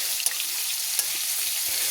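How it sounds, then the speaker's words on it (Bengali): Golda prawns fry in a pan with a loud, steady sizzle and a couple of sharp pops, with no voices, heard close up. "আমার চিংড়া মাছগুলো ভাজা হচ্ছে।"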